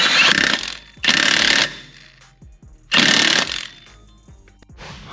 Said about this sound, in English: Go ahead and torque it down here